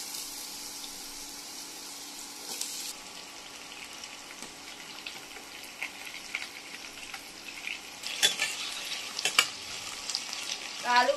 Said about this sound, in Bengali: আলুগুলো দিয়ে দেবো তেলের উপর।